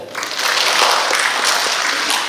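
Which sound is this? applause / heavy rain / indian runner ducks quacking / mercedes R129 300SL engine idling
applause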